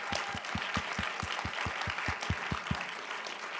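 An audience at a startup pitch event applauds, with dense, moderately quiet clapping and a regular low thumping beat running underneath for most of the moment.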